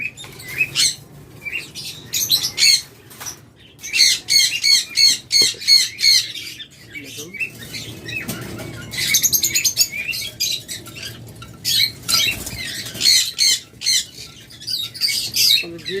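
Pet lovebirds and cockatiels squawking and chirping in bursts, loud and close, with short quiet gaps between clusters of sharp calls.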